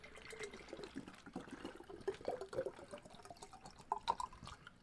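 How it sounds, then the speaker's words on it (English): Water running into a 32-ounce Infuze water bottle, a steady close trickle with gurgling and dripping bursts that rise in pitch as the vessel fills, heard alone without talk. "and fill up the water bottle"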